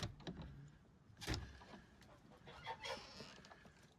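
Geese honk in a farmyard on a blustery winter day, a few short faint calls scattered over low wind noise, with no one speaking.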